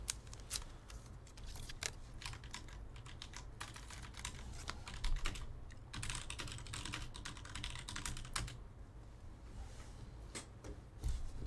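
Computer keyboard typing runs steadily as a dense stream of quick, light clicks and clacks, close and fairly quiet, with no voices.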